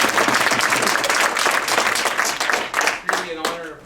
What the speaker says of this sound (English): if you wouldn't mind giving him a round of applause